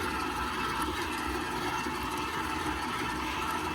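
A stand mixer motor runs steadily on its second speed while kneading pizza dough, giving a loud, continuous whir with no speech.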